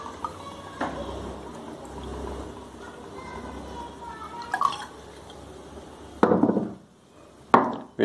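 Bacardi white rum limon flavor poured into a glass, with liquid trickling and dripping under room noise, then sharper glass and bottle clinks and a louder burst of pouring near the end.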